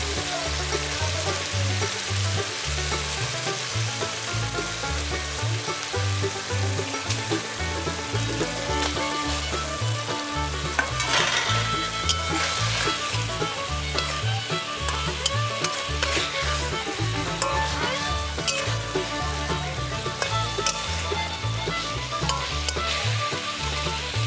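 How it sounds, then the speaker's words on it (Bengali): Fried rohu fish pieces tossed into a sizzling mustard and poppy seed paste masala, with a steady loud sizzle and frying crackle, spatula scrapes against the pan, and faint background music running throughout. "দিয়ে এবার আমি মাছগুলোকে দিয়ে দেব ভেজে রাখা মাছগুলো।"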